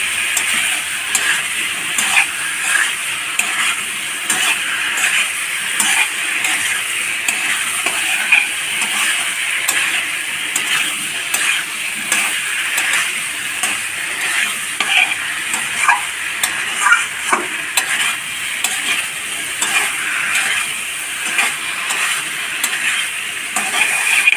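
Spices sizzle steadily in a hot pan while being stir-fried for a radish curry, with a continuous close frying hiss and light stirring scrapes throughout, no voices.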